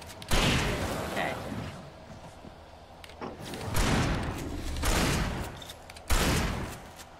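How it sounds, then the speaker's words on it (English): A pump-action shotgun fires in Alan Wake Remastered, each loud, heavy blast followed by a long booming decay, about four shots spaced a second or two apart, with a voice speaking between them. "I love the pump action shotgun."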